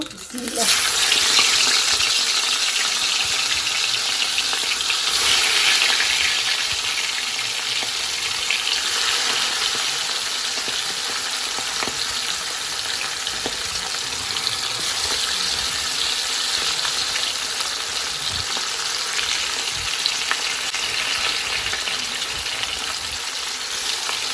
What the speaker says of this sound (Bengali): এখানে ইলিশ মাছ ভাজবো তো কড়াইতে তেল দিয়ে দিয়েছি এখন মাছগুলো ছেড়ে দিব